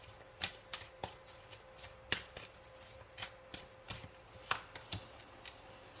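Cards drawn one at a time from an oracle deck, giving soft papery flicks and snaps scattered across the stretch, quiet and close with no talking.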